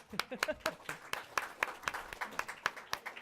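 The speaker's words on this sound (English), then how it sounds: "Can we also applaud for the interpreter?" An audience at a talk on low-energy buildings in China and the U.S. claps for an interpreter, with scattered, uneven hand claps that stay moderately loud and fairly close throughout.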